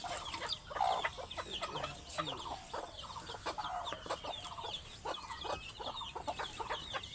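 A desi mother hen clucks softly and repeatedly beside her newly hatched chicks, with faint high cheeps from the chicks, close by and fairly quiet, without talk.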